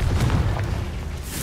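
Confringo explosive spell cast in the video game Hogwarts Legacy: a dense, rumbling low boom that swells at the start and stays loud, with a brighter burst near the end and no talking.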